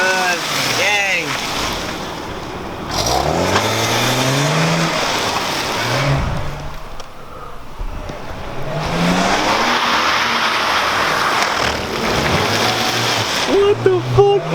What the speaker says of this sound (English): This BMW just drifted around the car and almost crashed.